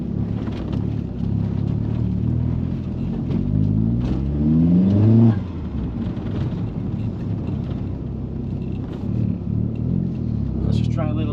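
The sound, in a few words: Vauxhall Zafira GSI engine and exhaust accelerating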